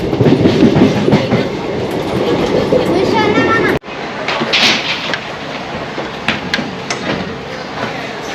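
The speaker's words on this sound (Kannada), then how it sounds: "ಇವಾಗ ಪಾಂಡುಪುರ ರೈಲ್ವೆ ಸ್ಟೇಷನ್ ಬಿಟ್ಟು ಹೊರಡ್ತಾ ಇದ್ದೀವಿ." A passenger train pulls out of Pandavapura railway station in Mandya district in the rain, its loud, close rumble and wheel clatter steady throughout, with a short cut partway and a voice briefly audible.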